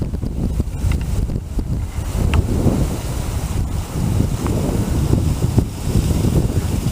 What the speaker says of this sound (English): A lot of wind here on top.